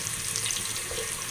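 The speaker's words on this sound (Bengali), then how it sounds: "এখন আমি এগুলোকে একটু নাড়াচাড়া করে দিব, এগুলোকে একটু হালকা করে ভাজবো।" Bay leaves fry lightly in a pan for a chicken gravy, giving a steady, close hiss of sizzling oil that runs unbroken through the short moment.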